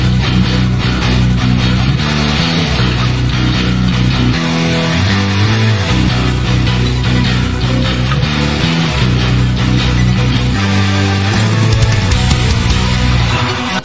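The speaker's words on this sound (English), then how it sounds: "So we should be able to hear the jukebox." A jukebox plays a continuous piece of music in the Minecraft video game, loud and steady with a rhythmic bass line and dense layered tones, and no one talks over it.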